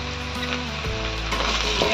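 Ground turmeric, coriander and cumin with salt sizzle in a pan while being stirred, a close, steady frying hiss over a low background hum, with no talking.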